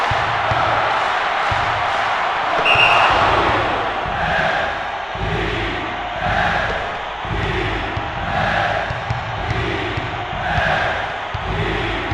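Crowd noise from the basketball game NCAA March Madness 2001 on PS1: a steady roaring arena din with rhythmic swells of chanting and shouts, plus faint ball bounces and thuds.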